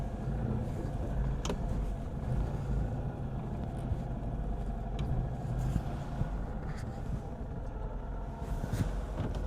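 A Citroen Acadiane van's engine runs steadily at low revs while being parked, a continuous muffled rumble with faint clicks and no speech.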